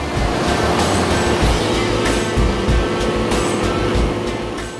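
A Fendt 936 Vario tractor pulling a 5-ton soil stabilization mixer very slowly produces a loud, continuous heavy diesel drone with deep rumbling, sustained close by throughout.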